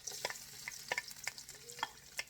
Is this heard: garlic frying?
yes